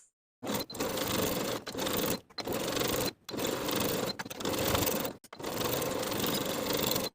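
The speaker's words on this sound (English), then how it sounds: "Then we can sew from the bottom of the armhole on the back side across the seam to the bottom of the armhole on the front side" Domestic sewing machine stitching an armhole seam on a knit jumpsuit with a 3/8 inch seam allowance, running in steady close bursts of whirring stitches separated by short pauses, no talking.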